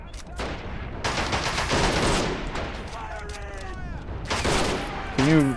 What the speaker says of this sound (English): Looks like they're just getting shot up.